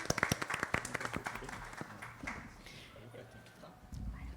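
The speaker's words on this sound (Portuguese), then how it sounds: "Palmas para a Jana, quem está aqui." A small studio audience claps for a podcast guest, a quick burst of close claps that fades within a couple of seconds as people start talking.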